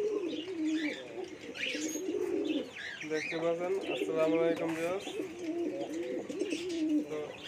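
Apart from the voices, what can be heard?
pigeon cooing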